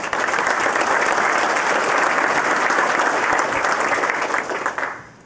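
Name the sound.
town hall audience applause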